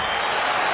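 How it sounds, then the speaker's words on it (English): Hockey fans at Madison Square Garden applaud and cheer the New York Rangers in a dense, continuous roar, a loud arena crowd filling this very short moment. "the fans at the Garden rise to their feet as they cheer the Rangers"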